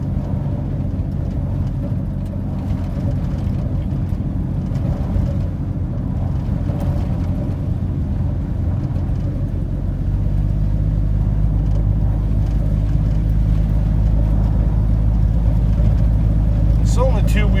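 A 1982 Ford F-150 two-wheel-drive pickup rolls along a rural road, its engine a steady, loud low rumble from inside the cab that deepens and grows heavier partway through.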